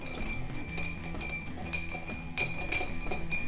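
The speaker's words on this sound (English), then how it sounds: "We've got our ice in there, so we're just going to stir it down for about 20 seconds." Ice clinking against the sides of a glass as a simple cocktail is stirred down, a steady close run of bright chinks and rattles throughout.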